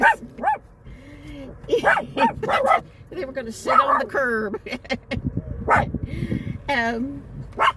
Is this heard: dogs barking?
yes